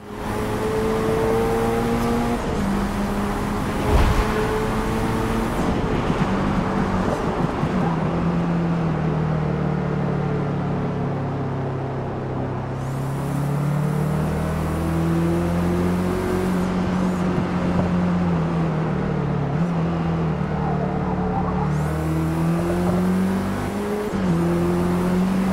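A race car engine in Forza Motorsport drones steadily as it drives, its pitch rising and falling through gear changes and revs, loud and continuous with no talk over it.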